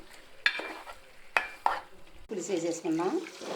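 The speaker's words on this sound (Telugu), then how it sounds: "ఇందులో పసుపు వేసుకుందాం, కారం, కళ్ళుప్పు, చేప ముక్కలు వేసుకుని వేపేసుకుందాం." Fish pieces coated with turmeric, chilli powder and salt frying in a pan, with two sharp clinks of a utensil against the pan followed by a burst of sizzling and stirring, fairly close.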